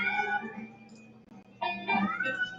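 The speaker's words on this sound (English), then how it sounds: "Could you guys hear my cats meowing when I was gone?" Pet cats meow indoors in long drawn-out calls, one fading then two more louder insistent meows close by, with no talk over them.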